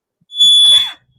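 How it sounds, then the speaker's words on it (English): A home smoke alarm gives one loud, shrill electronic beep that lasts under a second and stands alone against near silence. "My fire alarm is going off."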